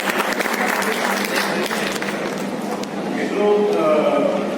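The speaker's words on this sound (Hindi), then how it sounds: "जोरदार तालियों के बीच में अपना स्वागत करते हैं।" Audience at a constitution and democracy seminar gives loud, sustained applause welcoming a speaker, a dense wash of clapping throughout with a voice rising over it near the end.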